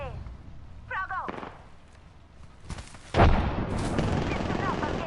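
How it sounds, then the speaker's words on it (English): Gunfire in the battle royale game Apex Legends: scattered shots and booms, with a loud burst near the middle that carries into sustained firing, over game voice chatter and effects. "Listen up, I'm getting shot at."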